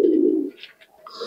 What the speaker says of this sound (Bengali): এটা কি কবুতর নাম? চীনা কামাগার।